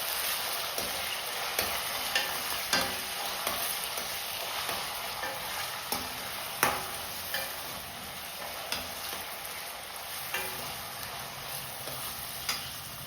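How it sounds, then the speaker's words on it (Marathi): Tomatoes fry in oil with softened onion for a Konkani-style cashew curry, a continuous sizzle with periodic clinks and scrapes of a spoon stirring the pan. "इथे आपला टॅमॅटो व्यवस्थित शेकतच आहे"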